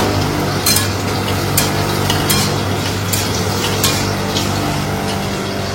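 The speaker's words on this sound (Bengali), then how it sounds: "আর ওইদিকে হচ্ছে মাছ ভাজা" Fish rubbed with salt and turmeric fries in a pan in a home kitchen, giving a steady, moderately loud sizzle with occasional sharper crackles and spits throughout, with no voices.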